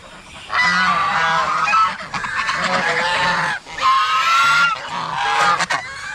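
A flock of geese honks loudly and repeatedly in overlapping bursts close by, kept on a rural Philippine farm during the rainy season, with only brief dips between calls.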